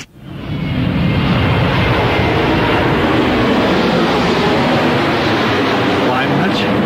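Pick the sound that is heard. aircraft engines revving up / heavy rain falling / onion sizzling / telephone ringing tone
aircraft engines revving up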